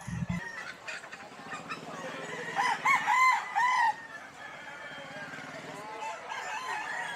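White Hatch gamefowl roosters give one clear crow mid-clip, with scattered clucks and farmyard noise around it and someone talking faintly nearby.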